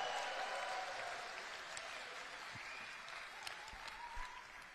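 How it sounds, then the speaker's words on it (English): Applause from an audience at the opening ceremony of the blind sports world games in a Birmingham concert hall, fairly faint and gradually fading, with a few scattered knocks near the end. "Give us a big round of applause."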